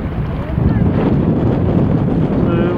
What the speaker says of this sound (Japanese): すごい波が、船がすごい揺れる。